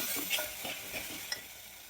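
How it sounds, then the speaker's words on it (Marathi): Chutney is stirred into kurma in a pan, giving soft, quiet scrapes and faint sizzling in a few gentle strokes. "चटणी मिक्स करून घ्यायची आहे सगळी"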